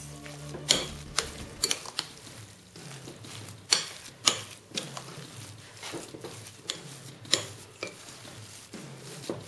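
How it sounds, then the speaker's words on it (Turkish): A spoon stirs a garlic potato mash in a bowl with repeated close scraping and knocking strokes, irregular clinks of metal against the dish between softer mushy sweeps. "Şimdi önce bir kaşıkla karıştıralım."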